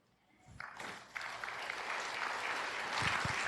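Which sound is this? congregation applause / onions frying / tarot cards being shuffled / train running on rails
congregation applause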